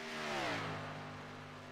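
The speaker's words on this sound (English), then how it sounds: "You could hear the engine pitch change quite a bit as he drifts up towards the wall" A race car engine on a track during a qualifying lap whines past, its pitch sliding downward as the car moves away, fairly faint and alone.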